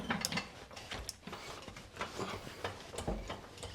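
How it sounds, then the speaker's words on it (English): A floor jack is pumped under a Chevy during 6L90E transmission removal, giving irregular mechanical clicks and ratcheting clanks, fairly faint and close. "So I'm going to try to start with the floor jack here,"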